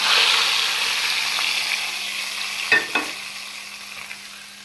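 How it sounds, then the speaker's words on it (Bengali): Vegetables for a mixed vegetable dish sizzle steadily in a pan as a spice mixture goes in, with a couple of brief stirring scrapes partway through and no talking. "এখন আমি এই মিশ্রণটা সবজির মধ্যে দিয়ে দিচ্ছি"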